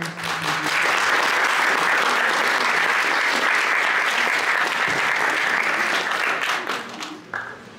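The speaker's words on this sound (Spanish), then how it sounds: "Un aplauso." A conference hall full of people applauds steadily, a dense wash of clapping that holds strong for several seconds before tapering off.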